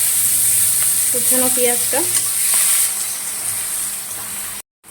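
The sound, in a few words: chopped onion frying and sizzling in spiced oil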